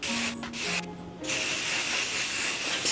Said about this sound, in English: you would just spray it in your hair while it's damp